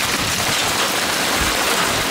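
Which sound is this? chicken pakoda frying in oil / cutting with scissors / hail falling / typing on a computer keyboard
hail falling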